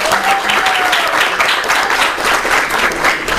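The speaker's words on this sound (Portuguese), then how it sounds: "Uma salva de palmas para eles." An audience applauds at an opening lecture for a junior data analyst course, honoring the professors who joined the week; dense, steady clapping fills the whole stretch at close, full volume with no voices.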